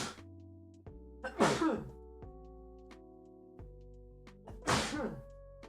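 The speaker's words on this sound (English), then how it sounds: "I have to sneeze." A man sneezes twice during a live trading stream, each a sharp, loud burst close to the microphone, separated by a few seconds of quiet with soft background musical tones.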